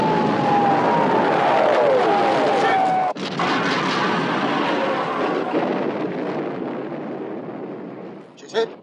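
Battleship gunfire in a 1960 war film battle scene about the sinking of the Bismarck: a loud, continuous booming roar with a sharp break partway through, fading slightly toward the end with a final thump.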